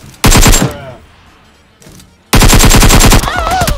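Rapid bursts of automatic gunfire in the mobile battle-royale game PUBG Mobile: two loud clusters of quick shots separated by a quieter gap, close and punchy.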